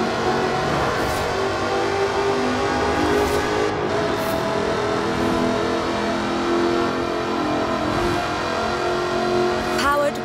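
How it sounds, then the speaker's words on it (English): A 5-litre supercharged V8 sports car with an aluminium body revs and accelerates in Forza Horizon 4, a loud, continuous engine roar that rises and falls for the whole stretch, with a voice talking over it. "Powered by a 5-litre V8 supercharged engine, with a fully aluminium body, it's blisteringly fast"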